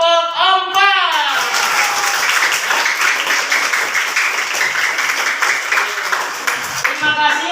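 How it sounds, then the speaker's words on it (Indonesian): A classroom of students breaks into steady, lively clapping for the winning group, a dense burst of applause that carries on for several seconds before tapering off, with voices mixed in. "tepuk tangan yang beri ya, kelompok 4"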